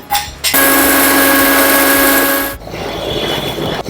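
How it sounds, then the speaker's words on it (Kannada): Kitchen mixer grinder grinding roasted sesame seeds into powder, a loud steady motor whine with a gritty rattle that runs about two seconds before cutting off, then lingering hum. "ಈ ಹುರಿದಿರೋ ಅಂತಹ ಎಳ್ಳನ್ನು ಕೂಡ ಮಿಕ್ಸಿಗೆ ಹಾಕೊಳ್ಳೋಣ"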